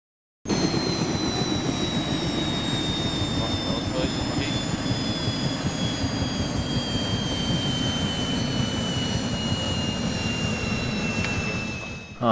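A helicopter in the video game DayZ gives a steady, loud engine drone with a whirring rotor-like roar running continuously throughout, with a constant high whine on top and no breaks.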